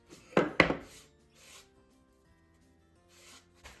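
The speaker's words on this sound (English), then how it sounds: "Just do like a dry brush on this." A paintbrush rubs dry strokes over a sanded surface in two quick, close scratchy bursts, followed by fainter, scattered brushing swipes in a quiet room with no voices.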